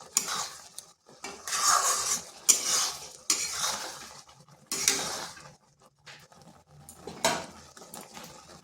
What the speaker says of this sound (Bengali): দিয়ে দিচ্ছি হলুদ গুঁড়ো, সামান্য হলুদ গুঁড়ো আর লবণ। এগুলো ভালোভাবে মিশিয়ে নিচ্ছি।